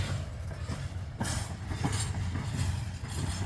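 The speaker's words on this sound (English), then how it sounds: "Now the front of the train is miles away." GBRf class 66 locomotive 66724 hauling a departing freight train, a steady heavy rumble of wagons rolling past close by with low-pitched wheel noise and occasional clatter over rail joints.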